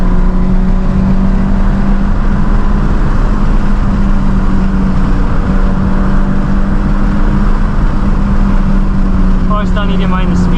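A Toyota GT86 engine drones steadily from inside the cabin while driving, a loud constant hum with a low tonal note. A voice talks over it near the end.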